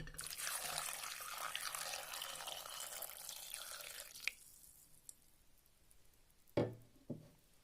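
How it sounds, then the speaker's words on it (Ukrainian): Water is poured over chopped vegetables in a pot for pumpkin soup, a steady splashing gush lasting about four seconds, followed by a few scattered drips and knocks in a quiet kitchen. "Нарізані овочі заливаю водою."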